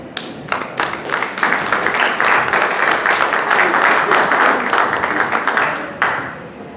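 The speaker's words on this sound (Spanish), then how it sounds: "le brindamos un fuerte aplauso a Lucio" Audience applause at a book presentation for "Entre luces y sombras", a few scattered claps swelling into a full, steady round of clapping that fades near the end.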